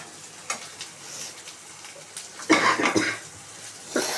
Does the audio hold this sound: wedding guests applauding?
no